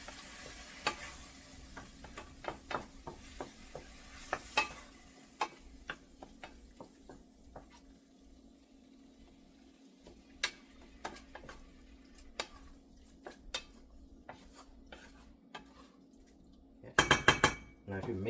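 Paneer bhurji stirred in a frying pan: a spoon scrapes and clinks against the metal again and again in an irregular rhythm over a faint steady sizzle, ending in a short burst of rapid clatter.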